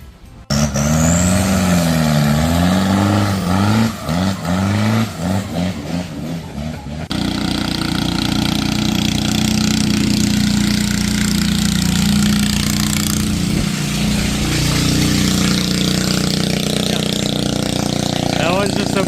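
A small racing boat's engine in Thailand revs and burbles loudly with rising and falling pitch, then settles into a steady, harsh exhaust drone that carries on for a long stretch.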